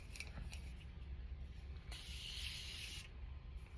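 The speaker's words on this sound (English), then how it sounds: "now I'm going to go in with my Morphe setting mist." Morphe setting mist sprayed onto a face: a soft, airy hiss with a few faint short spritzes, then one longer burst of spray about a second long, close and steady over a quiet room.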